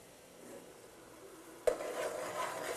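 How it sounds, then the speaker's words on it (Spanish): Flour is stirred constantly in a pan with soft, quiet scraping, which grows a little louder and busier after a sudden clack partway through. "Y ahí es revolviendo la harina constantemente"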